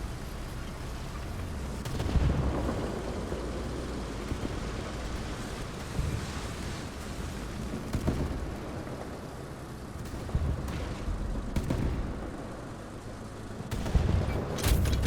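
Heavy tank gun fire from a Swedish SAV 20.12.48 tier-2 tank destroyer with a six-round autoloader in War Thunder: several booming shots a few seconds apart over a steady engine and battle rumble.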